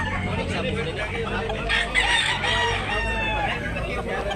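A rooster crows loudly nearby, a drawn-out call rising over a busy background of other chickens and murmuring voices, at a chicken market in Tabunok, Talisay, Cebu.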